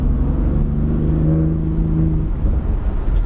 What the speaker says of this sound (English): you hear the turbo spool up with the induction sound and then it shifts with that like loud, like thunderous fart